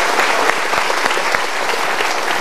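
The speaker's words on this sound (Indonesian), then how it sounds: "Kita berikan tepuk tangan." A studio audience breaks into applause, a continuous thick patter of many hands with a few sharper individual claps popping out near the front, sustained evenly throughout.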